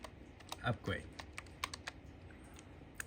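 Keys tap rapidly on a computer keyboard as a command is entered on a Raspberry Pi 4B, a close cluster of clicks with brief voice sounds mixed in.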